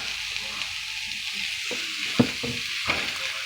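Mushrooms cook briefly in grapeseed oil in a home kitchen pan, with a steady soft sizzle and a few light stirring knocks near the end, and no talk.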